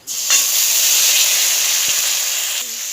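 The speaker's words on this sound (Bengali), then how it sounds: "মশলাটাকে কষিয়ে নিচ্ছি।" Spice paste of ground cumin, coriander, dried chilli and ginger fries in oil with panch phoron in a pan for squash dalna, giving a steady loud sizzling hiss that starts abruptly and holds for about three seconds.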